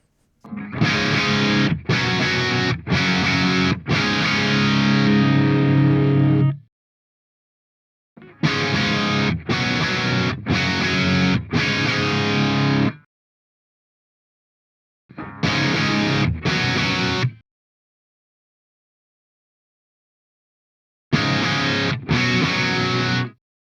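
Distorted electric guitar chords through a Synergy Syn20IR amp with DRECT module, presence control adjusted, played in bursts separated by silences, the tone saturated and buzzy, with no talking.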